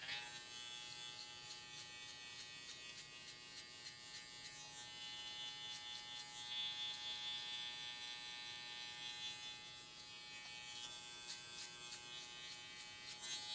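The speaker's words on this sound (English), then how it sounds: "I'm going to go ahead and close my clipper up about 2 clicks to shorten the blade" An electric hair clipper buzzes steadily while cutting hair during a mid drop fade, with a faint, continuous motor hum broken by a regular pulsing pattern of short bursts.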